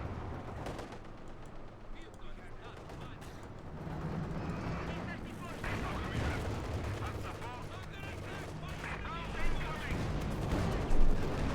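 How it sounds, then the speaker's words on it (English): A field gun fires during a Company of Heroes 2 match between Wehrmacht and Soviet forces, a booming shot amid battle noise and scattered gunfire, heard under a commentator's continuous talk. "Field gun shot there."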